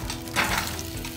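Diced mango frying with garlic and turmeric in olive oil, a steady soft sizzle with a brief louder crackle as the pieces settle in the pan.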